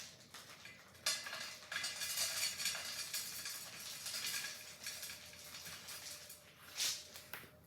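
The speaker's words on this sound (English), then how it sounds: "we are going to throw a little bit of these bacon bits inside of the pan" Bacon bits heating in a pan for doctored canned potatoes give a steady broadband sizzle with a few sharper clinks or pops, moderately close and without voices.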